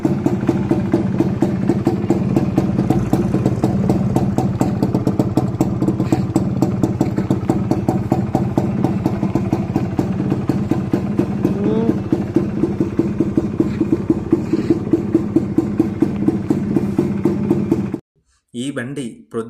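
A Suzuki Max100 motorcycle engine idles close by with a steady, rapid, clattering beat for most of the stretch, then cuts out briefly before firing again near the end.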